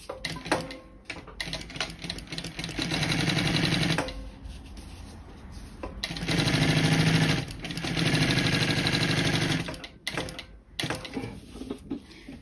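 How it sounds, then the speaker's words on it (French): Domestic sewing machine stitching a rectangle to attach a zipped pocket onto fabric, heard as steady mechanical whirring runs that stop and restart as the work pivots at corners, with clicks and handling noises between bursts. "Je vais maintenant venir coudre le rectangle pour attacher la poche à l'extérieur."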